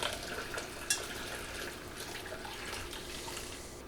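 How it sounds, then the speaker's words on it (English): Garlic soup strained back into a pan, a quiet steady trickle of liquid with one small clink near the start, continuing evenly throughout. "we're going to strain this right back into our original pan slowly"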